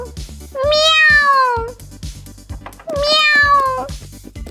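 A toy kitten meows twice, loud and close, each meow a long drawn-out cry with a short gap between them, set over a light background tune.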